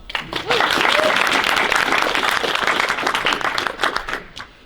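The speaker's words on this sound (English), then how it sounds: "Please, round of applause" Audience applause at the final pitching event of a social hackathon, a dense, steady wash of clapping that swells quickly and holds loud for several seconds before tapering, with a voice briefly audible within it.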